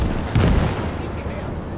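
A deep mortar artillery boom in the video game Gates of Hell, a single muffled blast rolling out over steady battlefield rumble.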